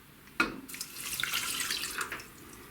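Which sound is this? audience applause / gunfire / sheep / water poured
water poured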